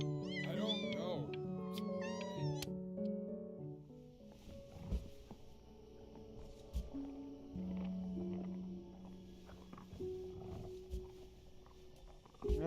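A cat in the video game Before Your Eyes meows in a series of drawn-out, wavering cries at the start, followed by quieter tonal game sounds, with no talk over it.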